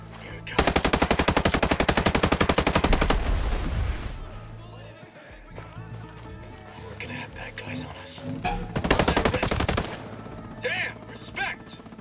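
Heavy machine gun fire in Ghost Recon Breakpoint, two long, loud, sustained bursts of rapid rounds separated by quieter combat noise, with voices calling out over the action.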